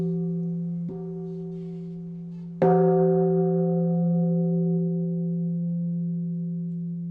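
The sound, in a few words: Buddhist temple bell ringing at Moeunam hermitage, Mucheoksan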